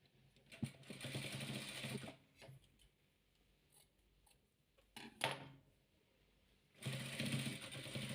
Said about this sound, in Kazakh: Енді екінші қабырғасында сары түспен тігеміз.